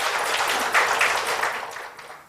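A round of applause for Ashok Lal at a felicitation ceremony for India's first LEED Platinum v4 certified building: dense, steady clapping from an audience, fairly loud and sustained, fading slightly toward the end.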